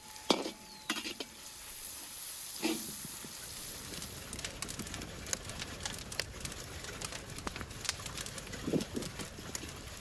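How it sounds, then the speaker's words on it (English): Onions and turmeric are stirred in a hot pan with a steady sizzle underneath and irregular scraping clicks from the spoon throughout, close and moderately loud, with no talking. "I add some turmeric and give it a good stir"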